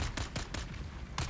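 Rifle gunfire in Dune Awakening strikes a personal shield, a quick series of about six evenly spaced sharp shots, close and loud, with no talking.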